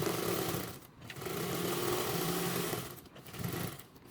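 Sewing machine running in near-continuous bursts as it top stitches a duffle bag seam with an eighth-inch allowance, a steady mechanical whir broken by a few brief pauses.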